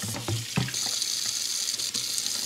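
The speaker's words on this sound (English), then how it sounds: "All right, let's wash the inside." Tap water runs into a sink while the inside of a whole tilapia is washed, a steady close hiss of flowing water with a few splashy knocks and clatters early on.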